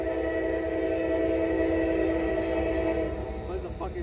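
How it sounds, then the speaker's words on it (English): A train passing close by a road crossing, a steady loud rumble with a sustained horn tone running throughout, heard from near a car. "There's a fucking train literally right there."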